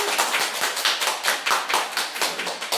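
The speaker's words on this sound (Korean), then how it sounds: "네, 일단 큰 박수로 환영합니다" A small group clapping in welcome at an early childhood education center session, close and distinct individual claps in an uneven rhythm, with no talk over them.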